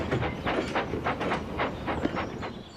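A steam locomotive chuffs in a steady, rapid rhythm of hissing puffs, loud and close, with rumbling rail noise underneath; an animated tank engine puffing hard.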